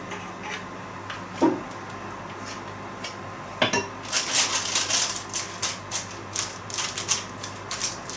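Banana bread batter being smoothed and the bowl scraped, with close, irregular clicks and scrapes of a utensil against the bowl and tin that grow busier toward the end, with no voices.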